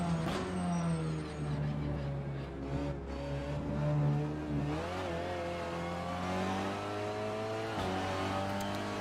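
A race car in the Honda Racing Simulator game brakes hard and accelerates again, the engine note dropping through downshifts and then rising in repeated climbing sweeps, a steady loud drone under a commentator's voice.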